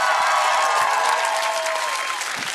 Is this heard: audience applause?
yes